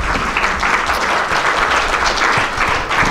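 Steady applause from an audience at a book signing for a medical novel, dense and continuous clapping with faint voices mixed in throughout.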